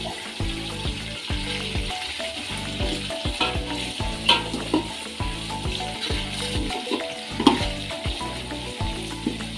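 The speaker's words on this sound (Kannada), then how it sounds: "ಈರುಳ್ಳಿನ ಬ್ರೌನ್ ಆಗೋವರೆಗೂ ಹುರ್ಕೋಬೇಕಾಗತ್ತೆ." Chopped onions frying in a pan until browned for chicken biryani, a steady close sizzle broken by repeated scraping stirs in a regular rhythm, with no talk.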